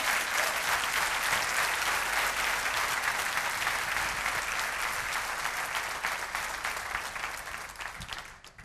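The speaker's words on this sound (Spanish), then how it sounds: "Dele, dele, dele ese aplauso al Rey." Sustained applause from a church audience during a Spanish-language sermon, dense and loud clapping holding steady before tapering off toward the end.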